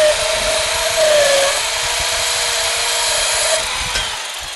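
A cutting tool slices through threaded rod with a loud, close, steady grinding whine that holds for several seconds before easing off.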